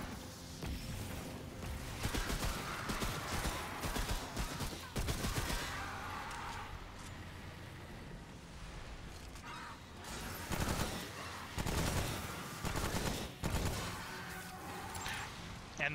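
Enemies fire bursts of gunfire in the game Remnant From the Ashes, repeated rapid volleys and shots spread across the clip at moderate loudness, with a player's voice talking over parts of it.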